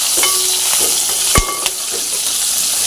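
Capsicum frying in a pan on low flame, a steady loud sizzle with a few short metallic stirring clinks, no talking.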